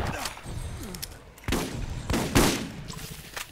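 Several shotgun blasts from the Borderlands video game, sharp bursts at irregular intervals over a busy background of game noise, with the loudest shots near the middle and a fainter one near the end.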